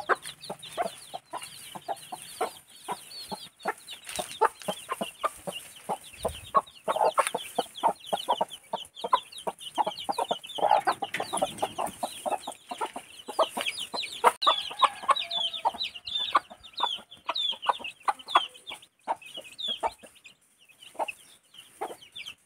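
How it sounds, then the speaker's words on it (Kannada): A hen with her brood of chicks in a farmyard, clucking repeatedly in quick bursts alongside rapid high peeping from many chicks, close and continuous with no speech. "ಕೋಳಿ ಮರಿ ಬಿಟ್ಟಿದೆ ಇಲ್ಲಿ ನಮ್ಮದು."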